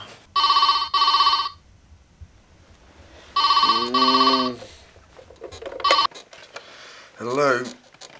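A telephone rings at night in a home, a loud, close double-burst ring repeated twice with a short pause between, followed by a clatter and a voice speaking.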